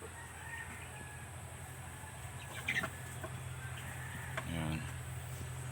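Rhode Island chickens in a farm flock, two hens and a rooster, cluck and call softly at close range over a quiet background, with a brief louder squawk midway.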